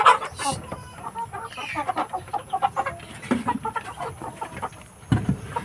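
Several chickens cluck and peck close by while eating, a busy scatter of short clucks and soft taps with no talking.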